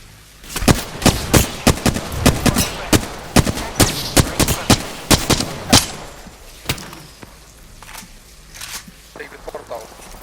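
Rapid bursts of gunfire crack through a video game battle, loud sharp shots in quick succession for several seconds before thinning into sporadic pops, with voices talking over the fight.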